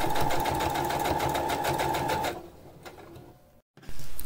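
A sewing machine stitches faux fur with a fast, even mechanical rattle for about two seconds, then stops, leaving a quiet pause with faint handling noises.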